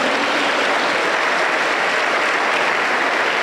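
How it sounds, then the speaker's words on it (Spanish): Congregation giving a strong round of applause for Christ Jesus, a thick, even wash of clapping that is loud and sustained throughout. "Vamos a dar un fuerte aplauso para Cristo Jesús"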